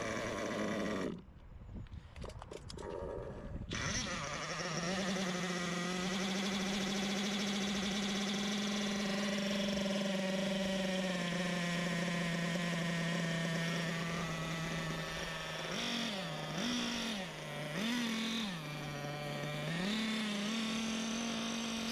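Kyosho Inferno NEO ST 3.0 RC car with a KE25 SP nitro engine fires up after a few rough pulls and runs at a high, buzzing, steady pitch, with a few quick blips near the end; close and alone.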